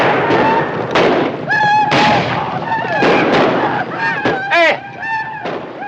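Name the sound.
gunfire in a western movie battle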